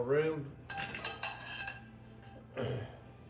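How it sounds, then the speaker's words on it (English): A utensil clinks and scrapes against a mixing bowl while ingredients are mixed, in short metallic bursts; a voice speaks at the start and again near the end. "I'm going to mix it a little bit more in the mixing bowl"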